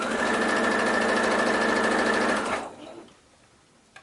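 A sewing machine hums steadily as it stitches about 1/8 inch from the fabric edge with a very narrow stitch length, loud and close. After about two and a half seconds it winds down and stops, leaving quiet room noise.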